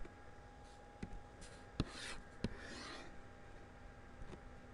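A pen sketches a circle on paper, with faint scratchy strokes and a few soft taps set against quiet room hiss.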